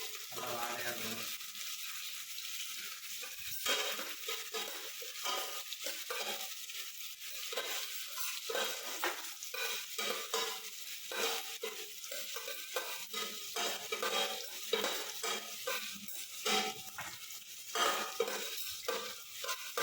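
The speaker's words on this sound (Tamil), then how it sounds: "அப்படியே இஞ்சி பூண்டு போட்டு ஒரு லைட்டாக வதக்கணும்னா நல்லா வாழையாக இருக்கணும்." Ginger and garlic sizzle and crackle steadily in a hot pan for egg kuruma, with repeated stirring scrapes and clinks of a utensil against the cookware throughout.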